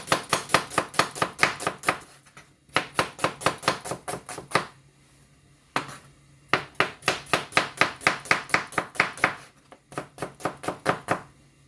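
Knife chopping ingredients for a cheese and onion pie on a board with a dull blade, rapid close, even knocks in bursts of several strokes separated by short pauses.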